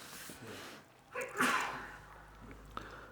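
One sharp sneeze bursts out near the middle of a quiet room, preceded by a faint intake of breath and followed by soft background rustle, with no voice over it.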